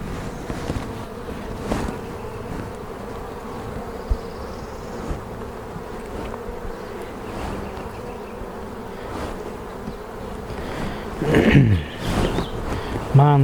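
Honey bees buzz around an open beehive during spring hive tending, a steady close drone with individual bees passing near, a louder swell toward the end, and a person talking intermittently underneath.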